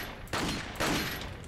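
Two quick bursts of gunfire ring out in the Resident Evil 4 video game during the El Gigante fight, each a short, fairly quiet crack with a brief tail.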